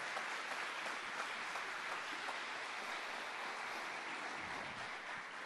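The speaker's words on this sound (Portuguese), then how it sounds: "Uma salva de palmas para João Batista, uma salva de palmas para João Batista, que está aqui" A church congregation breaks into sustained applause at a Sunday service, a dense, even wash of many hands clapping at once, steady and fairly distant, with no one speaking over it.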